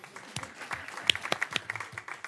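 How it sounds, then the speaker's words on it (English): Brief, scattered clapping from a small group at a council meeting, a handful of uneven claps rising and fading over a couple of seconds. "Give him a round of applause anyway"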